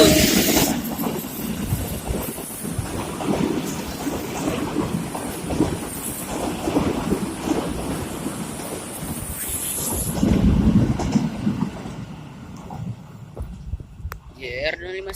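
A train pulls into Rangkasbitung station in Indonesia, its loud wheels rumbling and squealing on the rails amid wind noise, and someone talks over it before the sound eases near the end.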